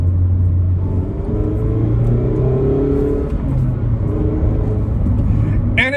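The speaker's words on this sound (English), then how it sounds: "Blasting music, or even just hearing the engine out." A 2022 Mazda Miata's engine pulls steadily under acceleration, a loud, continuous in-cabin drone with rising and stepping engine tones throughout, plus a faint rustle at the very end.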